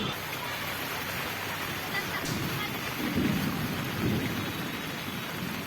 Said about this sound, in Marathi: मुंबईत मुसळधार पावसाने हजेरी लावली आहे